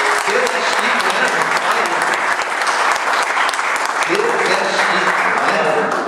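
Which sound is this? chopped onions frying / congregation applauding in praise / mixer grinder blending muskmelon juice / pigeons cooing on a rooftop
congregation applauding in praise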